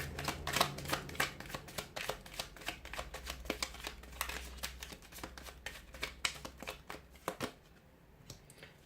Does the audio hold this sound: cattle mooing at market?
no